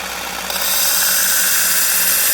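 A knife blade, a Kansept Model 6, is pressed against a running belt sharpener, producing a loud, continuous abrasive whine that grows stronger after a brief quieter start and holds steady to the end.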